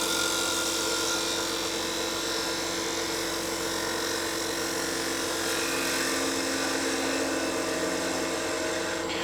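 A gouge cuts steadily into a wooden bowl spinning on a lathe, a continuous loud broadband shearing roar with a low motor hum beneath, sustained without a break throughout.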